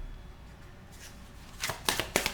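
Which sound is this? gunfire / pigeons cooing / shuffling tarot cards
shuffling tarot cards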